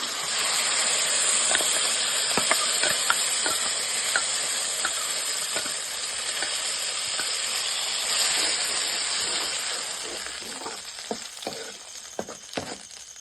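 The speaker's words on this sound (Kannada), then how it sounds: "ಸ್ವಲ್ಪ ಎಣ್ಣೆಯಲ್ಲೇ ಫ್ರೈ ಮಾಡಬೇಕು." Ground masala spices fry in a little oil, giving a steady close hiss and sizzle with occasional spoon taps and scrapes, easing slightly toward the end.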